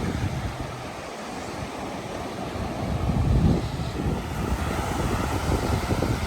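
Waves wash onto the fine-sand shore of the Gulf of Mexico on a choppy day, a steady surf roar that swells and recedes, mixed with gusty wind buffeting the microphone.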